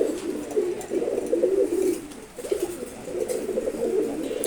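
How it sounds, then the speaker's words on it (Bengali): Loft pigeons, including a red checker cock, coo nearby in two drawn-out bursts with a brief lull between, over a faint background hiss. "আরেকটা রেড চেকার নর কবুতর।"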